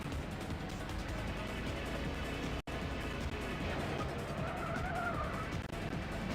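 A racing car in the Nintendo 64 game Ridge Racer 64 brakes hard into a corner. A brief tire squeal rises over a constant, loud engine drone, which cuts out for a moment partway through.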